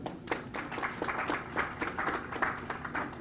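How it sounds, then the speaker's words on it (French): Audience applause at an airport customs building inauguration ceremony, a steady patter of many hands clapping at moderate volume, no voices over it. "je vous demande d'applaudir s'il vous plaît"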